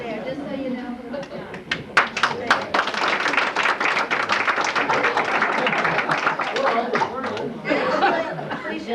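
An audience at a historical society tribute evening claps for guests standing up, a dense, steady round of close hand claps with chatter and light laughter mixed in throughout.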